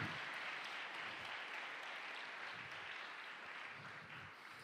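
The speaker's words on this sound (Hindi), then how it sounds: "आइए, जिनको ये यकीन है मेरे साथ मिलके जोरदार तालियां बजाएं।" A congregation at a teen church conference in Lahore applauds, a soft, distant wash of steady clapping that slowly fades.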